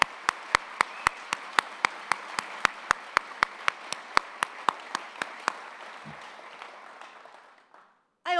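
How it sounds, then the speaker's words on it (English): At a Wisconsin football welcome event, a large crowd applauds, a sustained roar of clapping with loud, rhythmic unison claps on top that beat steadily for about five seconds, then fade into scattered clapping and trail off. "let's give him a big round of applause"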